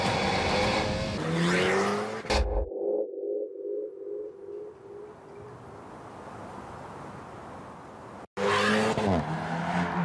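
Alpine mid-rear-engine sports coupe, 252 hp and 1080 kg, passing loud and close with engine roar and a tire squeal, then a long fading whine and rising road hiss before an abrupt loud return of the engine.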